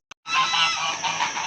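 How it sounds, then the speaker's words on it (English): Geese honk loudly and continuously from nearby, a dense unbroken chorus of calls after a brief short honk. "if I can get the geese to shut up over there"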